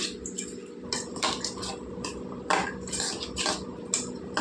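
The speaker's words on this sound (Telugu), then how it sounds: "ఆ రసం వేస్తున్నాను నేను ఇప్పుడు ఇదంతా బాగా కలిసేలాగా కలిపేసుకుందామండి" Chopped onion mixed with lemon juice in a bowl gives soft wet squelching and repeated light spoon clinks against the bowl, quiet and close.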